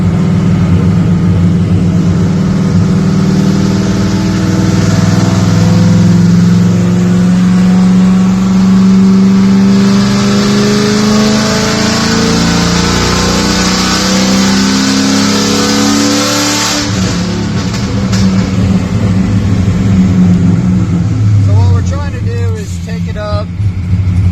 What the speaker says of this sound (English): linear and progressive pulls, okay, with modulating the amount of throttle, but we have to decel in gear